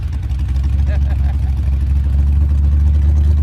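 An idling engine rumbles steadily and close with low, even tone, while people talk over it.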